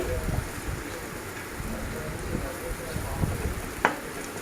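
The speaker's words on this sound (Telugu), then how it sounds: "అడగంటకుండా మధ్య మధ్యలో కలుపుతూ ఫ్రై చేసుకోవాలి" Bitter gourd and onion masala fries in oil and is stirred now and then, a soft, even sizzle with light scraping knocks, fairly quiet, with faint talk in the background.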